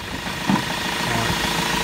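Diesel engine of a 2004 Renault Master MK2 van with the 2.5 dCi, running at a steady idle after a fuel filter change: a continuous low rumble with one brief bump near the start, close by and with no voices.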